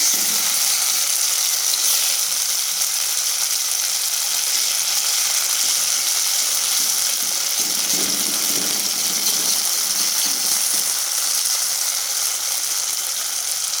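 Food coated in batter sizzles and crackles steadily in hot coconut oil, a close, continuous hiss with no talking.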